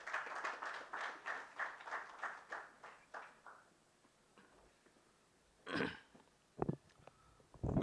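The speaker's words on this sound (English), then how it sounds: "Big round of applause for him." A short patter of clapping from a small audience at a leadership summit in New Delhi, fading out after a few seconds, followed by a few isolated bumps and noises.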